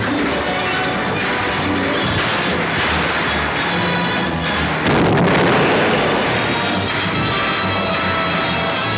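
Dense, continuous gunfire in a cavalry battle, with rifle shots and booming blasts blended into a loud, sustained roar and a sharper surge of shots partway through.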